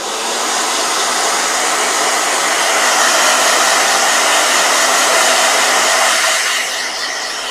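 A blow dryer drying watercolor ink on 300 GSM paper gives a steady, loud, close whirring roar that runs unbroken for over seven seconds, with no voices.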